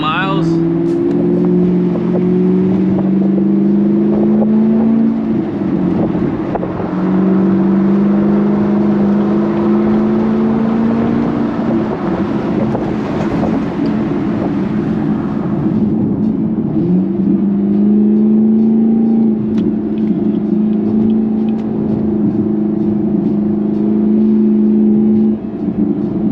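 A Chevrolet Camaro SS fitted with an E85 kit drones loudly and continuously, its engine tone shifting slightly in pitch as the revs rise and fall, with a voice speaking over it at times.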